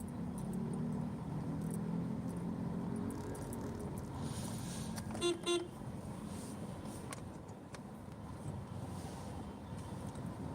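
Road traffic on a congested street in Ermita, Manila, with engines rumbling steadily and a couple of short car horn toots around the middle, moderately distant.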